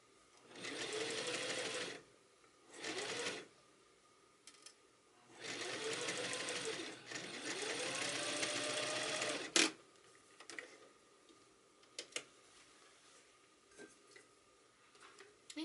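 Sewing machine stitching the hem of a suit coat sleeve with vents, several runs of steady mechanical whirring separated by pauses, followed by quiet clicks and handling sounds.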